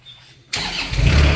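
A Kubota engine on a 2014 Moffett M55 truck-mounted forklift cranks and catches after a quiet moment, bursting into a loud, close, rising mechanical roar.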